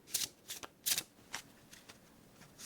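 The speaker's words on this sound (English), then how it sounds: "let's shuffle the rest of the deck." A deck of playing cards is shuffled quietly and close up for a tabletop card game, in a series of soft crisp riffling bursts with no voices.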